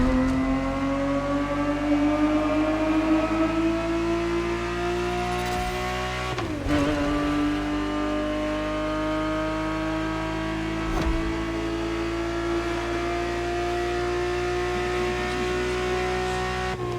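A Ferrari 365 GTB4 in The Crew Motorfest revs hard and loud, its engine note climbing steadily, dipping briefly at a gear change around the middle and then rising again, with no voices over it.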